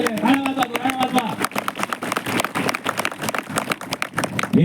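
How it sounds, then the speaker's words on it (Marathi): Audience at a Marathi kirtan claps in a dense burst of applause that rises and falls, with a voice calling out over the clapping. "टाळ्या वाजवा, टाळ्या वाजवा"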